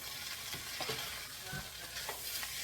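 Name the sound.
stirring and frying rice in oil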